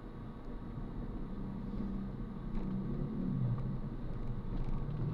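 Road traffic on a route from Tugatog, Malabon to Maysan, Valenzuela in the Philippines: a low, continuous rumble of engines passing nearby, steady and fairly quiet with no talk.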